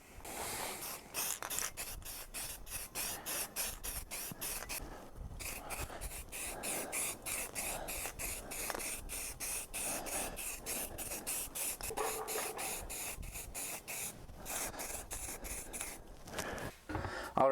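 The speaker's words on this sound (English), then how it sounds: "Alrighty, got this thing all sprayed." Light coat of gray primer sprayed onto a Master Chief M6H Magnum prop pistol, heard as a faint, close hiss in rapid repeated short bursts with brief pauses throughout.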